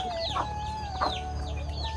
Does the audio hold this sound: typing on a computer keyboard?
no